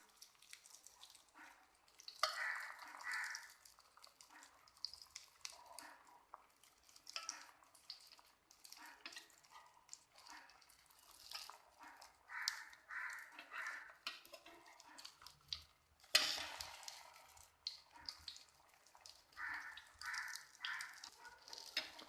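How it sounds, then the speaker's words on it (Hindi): Shami kababs frying in a pan, a faint, uneven sizzle with soft bursts of spitting and a sharper clatter partway through, no talking. "एक साइड से फ्राई करने के बाद इसकी साइड चेंज कर लेंगे।"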